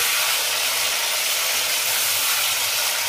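Drumstick pieces and vegetables sautéing in a hot pan for a Bengali dudh shukto, giving a steady, even sizzle and hiss that holds without a break, with no talking.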